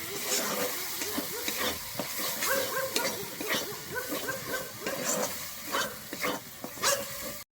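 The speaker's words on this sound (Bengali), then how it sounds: "আমি কাজু আর চালমগজ বাটাটা দিয়ে কিন্তু খুব ভালোভাবে এখানে কষিয়ে নেব" A paste of ground cashew and melon seeds sautés in a pan for a white cauliflower dish, with soft sizzling broken by repeated scraping stir strokes at an uneven rhythm, close by.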